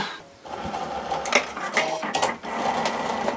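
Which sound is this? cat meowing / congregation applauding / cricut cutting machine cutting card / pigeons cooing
cricut cutting machine cutting card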